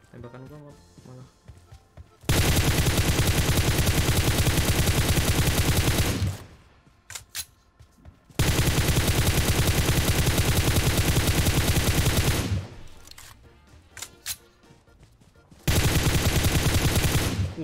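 Long bursts of loud, rapid automatic gunfire from PUBG Mobile, separated by short quieter gaps with faint background sounds.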